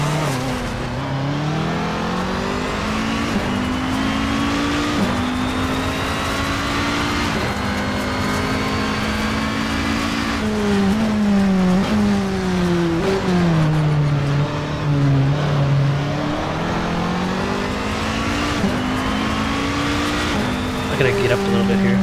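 Race car engine in the Project CARS video game, loud and continuous, revving and shifting with rising and falling pitch throughout, with a voice talking over it at times.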